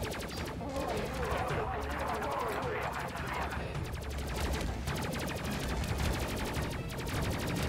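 Missiles launching in the Space Crew video game, a steady rapid stream of firing bursts with a rhythmic pulsing pattern, continuous and loud throughout, with game sound beneath.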